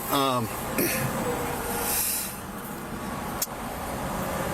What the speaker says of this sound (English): I don't like standing up by your window with the traffic going by